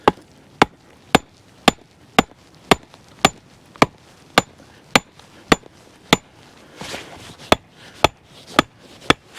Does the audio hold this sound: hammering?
yes